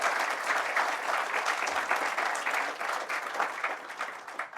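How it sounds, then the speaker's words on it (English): Warm applause from a crowd at an evening summer writers' event, steady dense clapping that carries on for several seconds at moderate distance. "a round of applause again for the Fishtrap staff"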